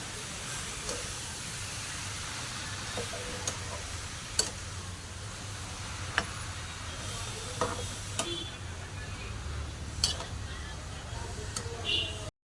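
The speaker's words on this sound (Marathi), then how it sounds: "ह्याला खाली वरून छान असं करून घ्यायचं, हलवून घ्यायचं" Carrot halwa is stirred in a pan, a steady quiet sizzle and soft scraping with sharp occasional clicks of the spoon against the pan, fairly close and faint.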